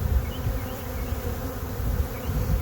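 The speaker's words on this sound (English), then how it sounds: "The bees act like the queen's there, and they all go to the box." A honey bee swarm hums loudly and steadily close by as it pours into a box, a dense, continuous buzzing drone with no talk.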